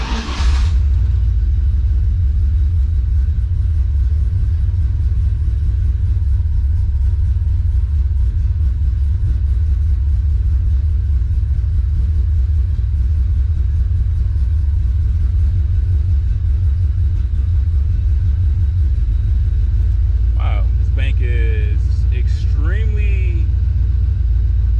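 A turbocharged Ford Mustang engine runs on its own after long cranking, a loud steady low rumble that holds the whole time, with a brief voice near the end.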